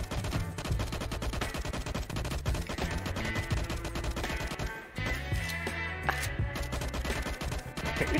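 Rapid gunfire in the LifeAfter video game shooting at a rock, dense repeated shots over steady game background music, moderately loud throughout.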